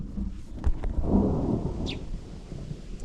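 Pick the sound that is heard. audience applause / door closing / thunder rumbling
thunder rumbling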